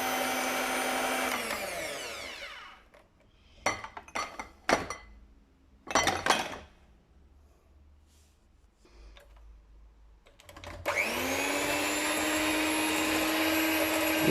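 An electric mixer whirs steadily through cake batter of eggs, sugar, oil and yeast in a bowl, stopping for a stretch of clinks and knocks against the bowl before starting up again loud and close.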